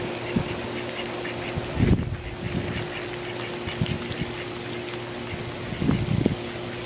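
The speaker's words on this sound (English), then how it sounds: "I found the ducks." Ducks quack near the water on a nature walk, several short bursts scattered over a low steady background, close and moderately loud, with no talking.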